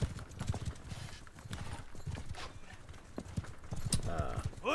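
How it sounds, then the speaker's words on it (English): Horse archers in a video game riding up on horseback, a steady patter of hoofbeats clip-clopping close by, with a brief whinny near the end and talk over it. "Have the horse archers ride up like that."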